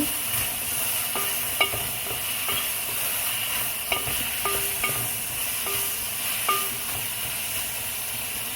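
Tomatoes stirred with bitter melon frying in a pan for a Sri Lankan bitter melon dish, a constant close sizzle with a handful of light spoon taps and scrapes scattered throughout.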